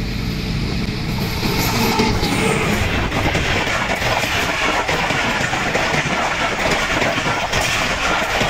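The Jaffar Express train rushing past at high speed, a loud roaring wash of wheels and wind with rhythmic rail clatter sustained throughout, close to the track.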